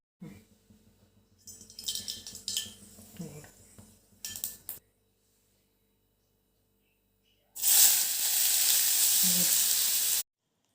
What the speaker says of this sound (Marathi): तेल गरम झालं की आपण फोडणी करून घेणार आहोत